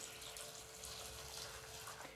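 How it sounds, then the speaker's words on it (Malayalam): Water poured over thick flattened rice (poha) to wash it in a home kitchen, a faint, steady hiss of running water with no voices. "ഇനി ഇതിൻ്റെ അതിലോട്ട് വെള്ളം ഒഴിച്ചിട്ട് കഴുകിയെടുക്കാം"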